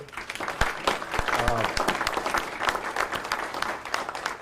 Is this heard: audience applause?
yes